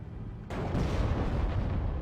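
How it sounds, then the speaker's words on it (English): Cannon fire in a WWII strategy video game: after a quiet bed, a heavy boom bursts in, followed by a second hit and a long rumbling roll of explosions; no talking. "That one member just got destroyed by 2 cannon shots."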